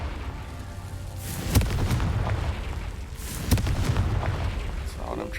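Two heavy magical blasts from the Confringo explosion spell in the Hogwarts Legacy video game, each a sharp boom rolling into a rumbling tail, about two seconds apart over a constant game ambience.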